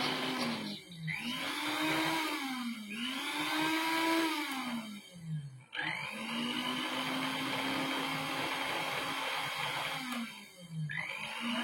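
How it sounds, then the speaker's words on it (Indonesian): An electric blender whirs loudly through herbal drink ingredients in a few long runs. Its pitch dips and rises as it labours, with brief pauses near the start and middle. "Lalu kita blender, tapi blendernya jangan sampai halus kita."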